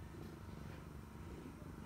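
A small cat purrs close by, a soft, steady, low rumbling throb that holds evenly for about two seconds at a faint level.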